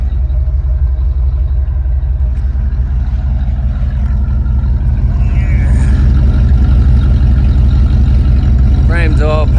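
A 1950 Chevy pickup's engine fitted with turbo mufflers idles steadily and fairly quietly in the foreground, a low continuous rumble with a few brief higher squeaks near the end.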